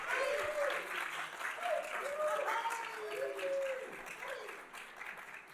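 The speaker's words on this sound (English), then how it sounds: "Big, big, big round of applause." Applause from an audience at the Phoenix Art Museum, a dense, steady wash of clapping heard under a voice, easing slightly toward the end.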